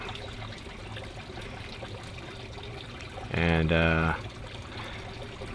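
Water trickles steadily into aquaponics grow beds as they fill, a constant low pour beneath a voice that speaks briefly near the end.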